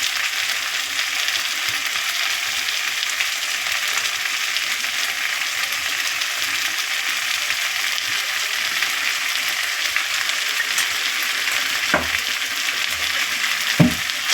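Turmeric and red chili powder frying in fish oil over high gas heat, a loud, dense, unbroken sizzle running throughout, with a couple of brief taps near the end and no voices.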